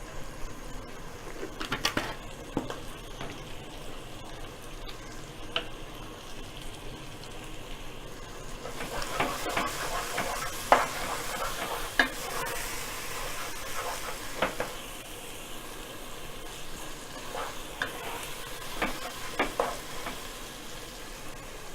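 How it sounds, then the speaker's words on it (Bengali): Spicy pasta with egg fries in a pan under a soft, steady sizzle, with occasional stirring scrapes. The sizzle grows louder and more hissing about halfway through. "নাড়তে হবে, না হলে ডিমটা হয়ে যাবে।"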